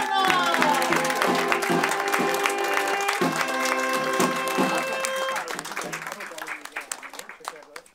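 Wedding party guests in Hungary applaud while tonal music with sustained notes plays loudly over them, then the music drops away and scattered claps continue more sparsely toward the end.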